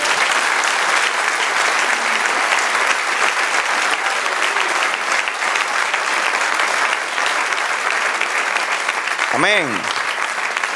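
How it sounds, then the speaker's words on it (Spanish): A church congregation applauds the Lord in a long, steady burst of clapping that fills the room, with a voice speaking over it and a brief rising musical or vocal swell near the end. "Dale un aplauso al Señor"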